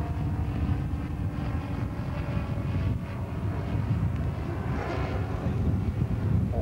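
A model twin pulse jet aircraft at a large model association flying event produces a continuous, harsh roaring drone that stays loud and steady as it passes, with no voices over it.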